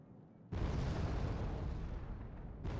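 Aircraft bombs exploding in Wargame: AirLand Battle, a sudden loud blast that swells into a sustained rumbling roar of detonations, with another impact arriving just before the end; no speech.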